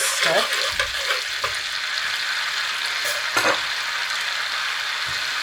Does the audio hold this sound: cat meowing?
no